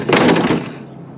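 Power running boards on a 2019 Ford F-250 deploying with a short mechanical whir and clunk, close by and fairly loud, fading within about a second.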